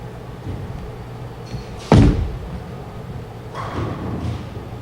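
A bowling ball thrown with a four-step approach lands with a single heavy thud at the lane, followed by a brief low rumble as it rolls away. The setting is a quiet bowling alley with a faint background hum.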